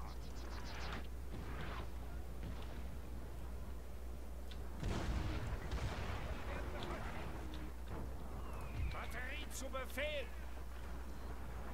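Cannon artillery booms in a Napoleon: Total War battle, with a heavy low thump partway through over a steady drone of battlefield ambience, faint and distant, while someone talks.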